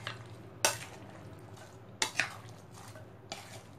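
A spoon stirring and mixing fruit chaat with black pepper in a bowl, three or four soft clinks and scrapes at uneven intervals, close and quiet with no talking.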